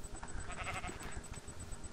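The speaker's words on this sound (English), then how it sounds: "Sheep!" Sheep bleating in the Minecraft video game, a few short game-sound bleats standing out over a low, steady background.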